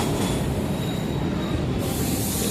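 Subway train at a station platform, a loud continuous rumble of rail cars with a high squealing wheel tone running across it, close and steady for the whole stretch with no talking.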